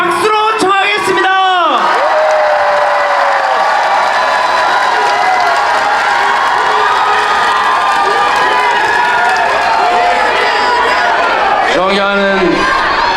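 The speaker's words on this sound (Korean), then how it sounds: "연설을 박수로 청하겠습니다" A Busan campaign rally crowd for a candidate erupts in loud, continuous applause and cheering, with amplified voices briefly audible at the start and end.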